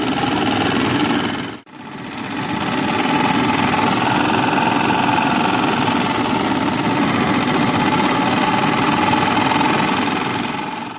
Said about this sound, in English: The kerosene pressure stove running an engine.